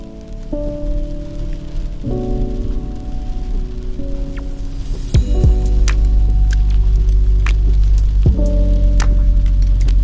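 Steady rain patters continuously on a surface in Japan, loud and close, with a low engine-like hum underneath and no voices.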